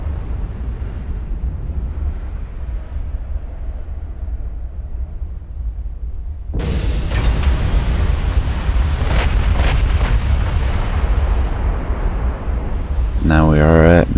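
Naval gunfire in the warship game Ultimate Admiral: Dreadnoughts, shells striking a battleship's rear turrets: a low rumbling ambience gives way to a sudden loud blast that sustains as heavy rolling booms, with sharp cracks and a ringing tone near the end.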